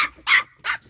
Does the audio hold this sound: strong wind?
no